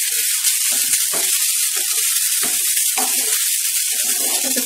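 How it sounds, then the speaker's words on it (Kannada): Idli upittu frying in a pan gives a steady, close sizzle that runs throughout, with a faint voice now and then underneath. "1 ನಿಮಿಷ ಇದು ಫ್ರೈ ಆಗಲಿ"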